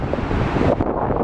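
Strong wind gusts buffet the microphone on a beach near the surf, producing a loud, continuous rushing roar with no voices, lasting just over a second.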